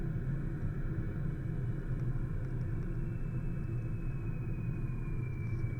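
A steady, dense engine rumble from a plane in Kerbal Space Program fills the scene continuously as it descends toward landing, with a faint high tone sliding slightly downward in the second half.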